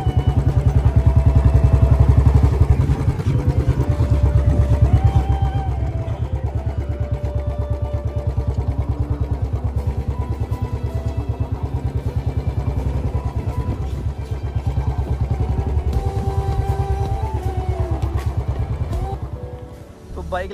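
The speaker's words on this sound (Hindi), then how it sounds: "बाइक लगा देंगे हम यहीं पे," A motorcycle engine runs loud and close at a steady idle with a rhythmic clattering pulse, rising slightly before settling, while someone talks over it.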